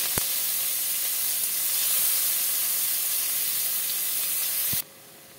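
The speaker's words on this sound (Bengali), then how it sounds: "পেঁয়াজ ভাজা ভাজা হয়েছে" Chopped onions fry in oil with black cumin, a dense, continuous sizzle, close and even, broken by a couple of light clicks before it stops abruptly.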